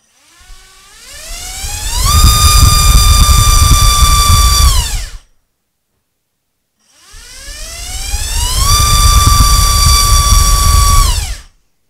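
An XNOVA XTS RM2206 2500KV drone motor spinning a Dowel 5045 tri-prop on a thrust stand gives two loud runs, each a rising whine that climbs to a sustained high-pitched scream, then winds down, separated by a short silence.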